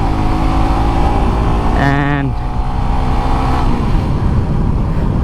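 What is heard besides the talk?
Suzuki GSX-R 150 motorcycle being ridden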